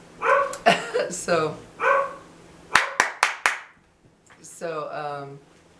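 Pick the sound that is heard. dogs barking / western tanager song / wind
dogs barking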